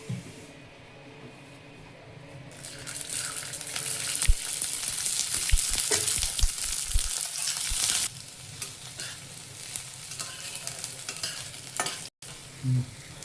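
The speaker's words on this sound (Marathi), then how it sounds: "आता आपण लसूण भाजून घेऊया आणि लसूण भाजताना आपल्याला त्यामध्ये थोडंसं तेल टाकायचं आहे" Garlic roasting in a little oil in a pan, a steady sizzle and hiss with occasional stirring scrapes and clinks, close and fairly quiet throughout.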